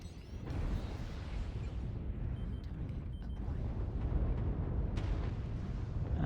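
Artillery strike explosions landing near a Warhammer IIC Bludgeon mech in MechWarrior, a wide rumbling barrage of muffled blasts with a few sharper impacts over steady low mechanical noise.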